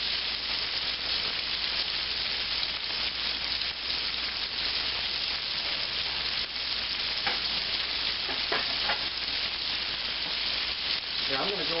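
Veal browning in a frying pan gives a strong, steady sizzle with occasional stirring and shifting sounds, close and loud, with brief speech rising over it toward the end.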